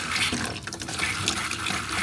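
Cold water tap running in a self-built VW Crafter camper van, a close, continuous splashing flow that sputters unevenly as if air is in the line.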